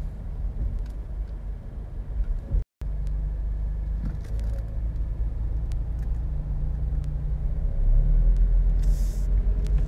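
A Toyota 86 drives around the BGC streets, its engine and road noise a steady close rumble that swells slightly in the later seconds, with a brief cut partway through and no talk.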